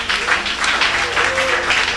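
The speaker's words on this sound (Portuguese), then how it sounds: "Quem pode bater as palmas para Jesus?" A church congregation claps for Jesus during a sermon, a dense, loud, continuous wash of applause from many people, close and filling the room, with some voices underneath.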